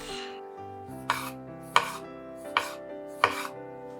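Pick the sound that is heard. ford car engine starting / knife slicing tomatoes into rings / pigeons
knife slicing tomatoes into rings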